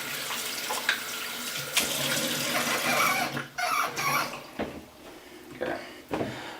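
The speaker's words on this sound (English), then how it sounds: "So your water should be hot out of the tap" Hot water runs from a tap into a sink, a steady close wash that is broken now and then by splashing and handling noises, heard alone without any talk.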